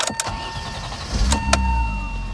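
A 1991 BMW M-Technic convertible with about 134,590 miles starts up close by: a brief electric whir, then a low engine rumble catching and settling into a steady idle, alone with no talk.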